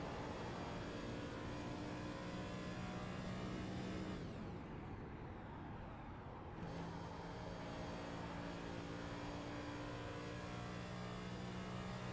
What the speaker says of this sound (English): You can hear him just cut the engine off into turn number 1.